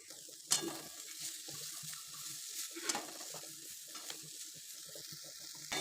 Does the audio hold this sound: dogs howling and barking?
no